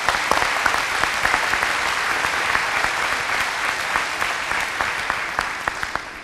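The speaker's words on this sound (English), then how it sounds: "Give yourself a round of applause for that." A crowd at a graduation commencement ceremony claps steadily, a dense sustained round of applause at moderate distance that continues without pause.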